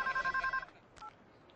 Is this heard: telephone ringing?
yes